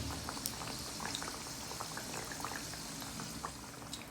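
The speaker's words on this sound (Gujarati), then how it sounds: "મસ્ત ધીમા તાપે એને તળી લઈશું." Kachori deep-frying in a mix of two oils over a low flame, giving a steady, fine bubbling sizzle with scattered crackles throughout, close and continuous with no talk.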